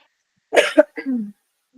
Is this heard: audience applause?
no